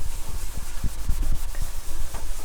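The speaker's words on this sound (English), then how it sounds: "get a bit like that on your sponge and give it a good old rub around" Sponge loaded with cleaner rubs around a motorhome sink in a Talbot Express, giving rhythmic, scratchy scrubbing strokes close by, with no voices.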